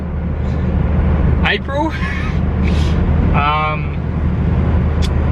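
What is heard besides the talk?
Mazda MX5 car being driven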